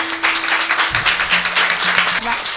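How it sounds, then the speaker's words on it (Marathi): An audience claps loudly and continuously at a devotional kirtan event, with a voice speaking over the applause. "एकदा जोरदार टाळ्या वाजवा महाराज, एकदम जोरात वाजल्या पाहिजे"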